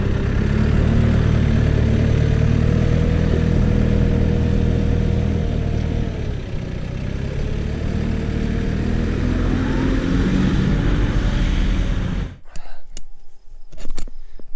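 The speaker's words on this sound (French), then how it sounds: "je me suis positionné dans la parcelle avec le tracteur" A tractor's engine hums loud and steady with a slowly wandering pitch as it drives into a field for fence building, then cuts out abruptly near the end, leaving scattered knocks and rustles.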